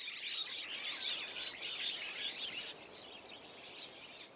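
High, busy chirping and twittering from several birds in African woodland goes on steadily, moderately distant, with no voices.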